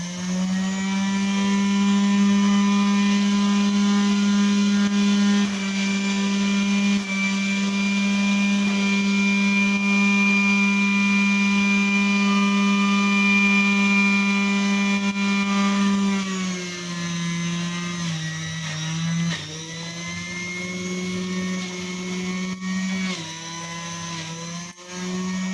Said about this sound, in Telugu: బీట్రూట్, దోసకాయ, అల్లం, పుదీనా అన్నీ కలిపి ఇలా గ్రైండ్ చేసుకోవాలండి.